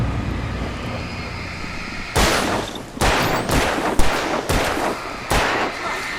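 Video-game gunfire in Alan Wake Remastered fires as a series of loud, sharp bursts, about six spaced shots over a low ambient rumble, with no talk between them.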